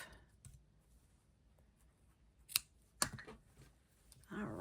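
Scissors cutting ribbon during a ribbon-flower craft project: two crisp, quiet snips close together in the middle, with faint handling rustles around them.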